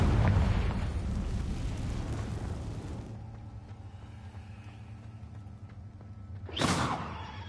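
A Confringo blasting spell explosion in Hogwarts Legacy: a heavy, loud burst that decays into a low rumbling tail, followed several seconds later by a sharp rising whoosh and smaller blast.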